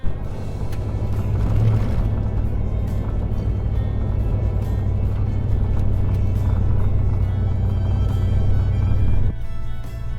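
A car drives along the road, heard from inside as a steady, loud low rumble and road drone that holds evenly throughout before easing slightly at the very end.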